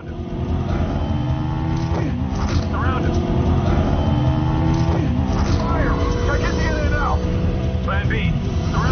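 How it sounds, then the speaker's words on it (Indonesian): Motorcycles speeding in a film chase scene, engine roar and revving passes sustained throughout beneath a narrating voice, with shifting whines rising and falling. "Carter masih harus mengejar Hana dengan mengebut motornya menyusul sekelompok agen bermotor"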